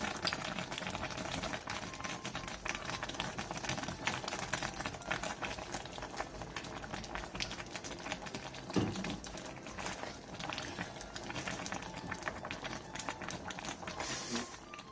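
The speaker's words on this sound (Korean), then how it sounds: "마지막으로 대파를 넣고 5분에서 10분간 더 끓여 마무리해주세요." Sweet potato stem and pork bone stew with green onion simmering in a pot, a steady dense bubbling and burbling that runs continuously at moderate level with no voices.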